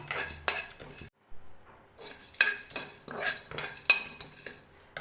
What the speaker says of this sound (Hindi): मसाला डाल दिया है और मैं इसको 2 मिनट तक रोस्ट करूँगी